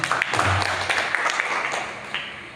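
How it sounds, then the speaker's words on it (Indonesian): An audience at a teacher training session claps in a brief burst of scattered applause that fades within a few seconds, with faint background murmur. "Tepuk tangan untuk Pak MT."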